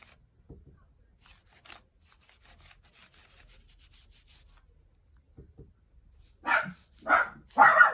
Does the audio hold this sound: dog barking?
yes